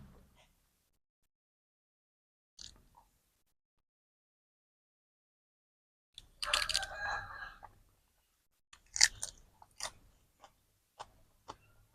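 Mouthful of minced pork larb chewed close to the mic in two short bursts of wet, crunchy mastication, separated by near silence and a few faint clicks.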